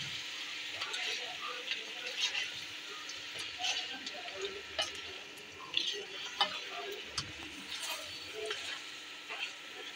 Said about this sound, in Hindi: पाँच से 10 मिनट इसे हम अच्छे से भून लेंगे ताकि अच्छे से इसका कलर चेंज हो जाए हमारे मटन का